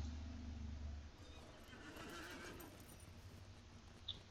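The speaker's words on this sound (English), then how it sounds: "Horse." A horse in the Lord of the Rings Online video game gives a short neigh at the start, followed by soft, steady hoof clip-clops over a low background hum, with no talking.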